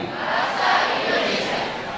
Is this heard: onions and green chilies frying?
no